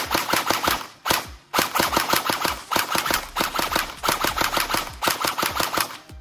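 An IdolToys AKS74U blaster fires on semi-automatic in quick bursts of sharp, loud, close shots, with three brief pauses breaking the strings of rapid cracks; no one speaks.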